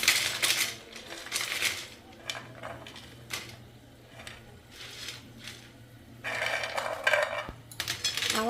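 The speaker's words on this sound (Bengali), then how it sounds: "আওয়াজটা শুনে আপনারা বুঝেই গেছেন যে কতটা ক্রিস্পি হয়েছে" Crispy fried pakoras made from raw potato being bitten and chewed, a series of crunchy bursts at an uneven rhythm, close and fairly quiet with short pauses between bites.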